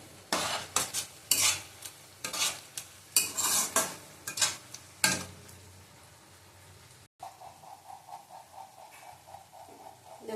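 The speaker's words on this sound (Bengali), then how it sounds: "আঁচ কমানো আছে আমি আবার আস্তে আস্তে কষাবো" Spice paste slowly sautéed in a pan on a low flame for chicken kosha, with a ladle scraping and knocking against the pan in uneven bursts over a soft sizzle that carries on alone after the stirring stops.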